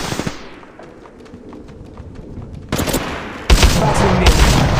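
Gunfire in Apex Legends Mobile: scattered shots build into loud, dense automatic bursts that grow heavier toward the end, close and with no talk over them.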